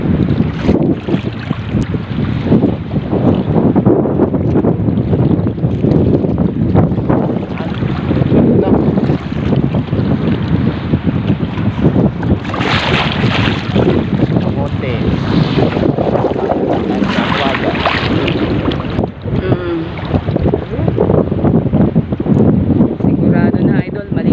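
Big waves slam against a small fishing boat at sea, a loud, constant roar of water and heavy wind buffeting the microphone, with surges and crashes throughout and no clear talk.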